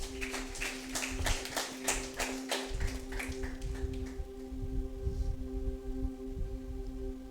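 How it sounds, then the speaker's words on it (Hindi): An audience at a religious gathering breaks into a burst of clapping, a dense run of sharp hand claps lasting a few seconds, over a steady electrical hum before the applause fades out. "ताली बजाए इसके लिए"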